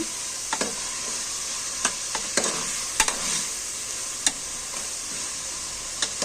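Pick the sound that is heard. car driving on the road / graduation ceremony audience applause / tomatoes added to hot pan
tomatoes added to hot pan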